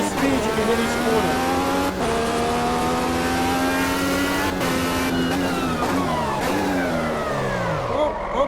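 A sim racing car in a racing video game accelerates hard, its engine note climbing steadily through gears with brief dips at shifts, loud and continuous for several seconds.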